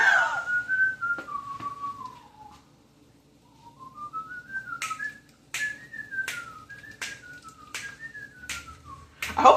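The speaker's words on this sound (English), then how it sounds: "He's whistling now. My father is whistling." A man whistles a melodic tune indoors, with clear sliding notes in short phrases separated by pauses and a few sharp clicks or snaps punctuating the melody.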